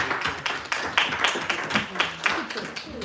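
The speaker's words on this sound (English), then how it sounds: "Let's get a warm round of applause for Dimitri, Parker, and Arush." Audience clapping for the evening's judges at a tech demo presentation event, a few distinct hand claps standing out over a lively, fairly close room with faint background voices.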